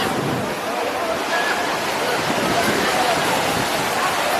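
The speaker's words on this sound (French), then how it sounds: "Il y a des vagues aujourd'hui." Ocean waves break on a beach in a steady, loud, broadband wash of surf, with wind buffeting the microphone and no clear pauses between the rushes of water.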